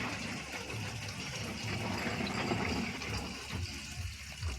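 Water runs steadily from a household tap on a cold winter day, a continuous rushing splash heard fairly close and at moderate level for the whole stretch, with no voices.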